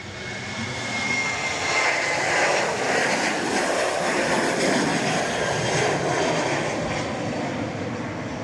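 Aircraft roaring down the runway on takeoff at Dallas Love Field, a loud sustained broadband engine rush that swells and holds steady for several seconds, with no speech.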